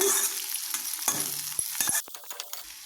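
Green chillies sizzle and crackle in hot oil in a pan as a base for paneer fried rice, with a spoon stirring and scraping close by before the frying quiets.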